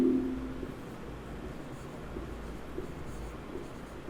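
Writing on a board during a biology lecture, a soft continuous scratching of the writing tool, close and steady, with faint breathy voice sounds underneath.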